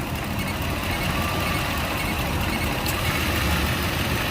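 A 2008 Ford F150 with the 3V engine idling steadily as its AC compressor clutch engages, a constant close rumble and whir with no voices.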